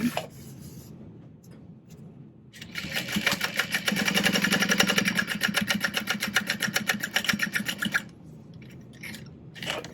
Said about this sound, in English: We're gonna sew down the center line only.